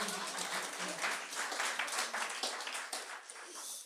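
Audience in a Quebec comedy game-show hall clapping for several seconds, a moderate, steady wash of hand claps that thins slightly toward the end, with a few voices mixed in.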